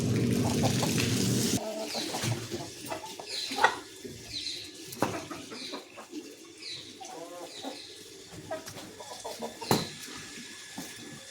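Backyard chickens in a Punjabi household cluck and call while being fed green saag leaves. Their scattered clucks rise over a low bed of running water and household noise, fairly close and without speech.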